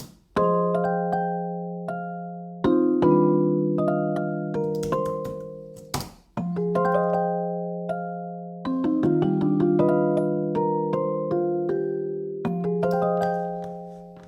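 Piano melody of sustained chords and single notes, played with the chord notes struck together rather than flammed for a loop-style beat. It sounds clean and loud with steady phrasing, a brief gap near the middle, and no voices.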